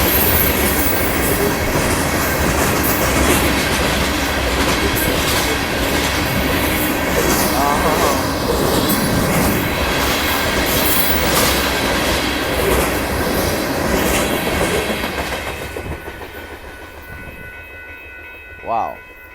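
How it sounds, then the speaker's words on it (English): A Union Pacific gravel train rushes past loud and close, a dense rumbling roar of railcars with rhythmic wheel clatter that fades near the end, followed by a brief sharp sound. "There goes the Union Pacific gravel train going by."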